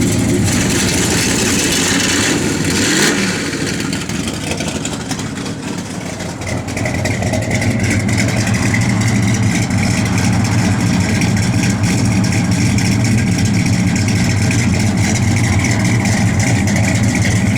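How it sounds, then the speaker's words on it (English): Loud, close engine of a 1968 Plymouth GTX running steadily, with a brief rev near the start before it settles back into a throaty, continuous idle, no talking heard. "Jordan, you rev it a little bit."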